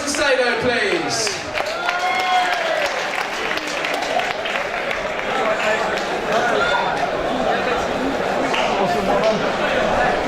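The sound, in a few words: crowd applause for MMA fighter Alex Macedo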